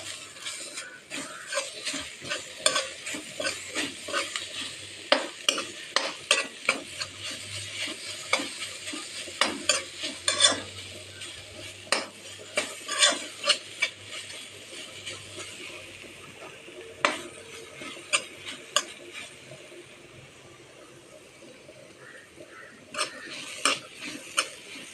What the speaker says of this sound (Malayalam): ഇനി ഇതെല്ലാം കൂടി ഒന്ന് യോജിപ്പിച്ച് കൊടുക്കാം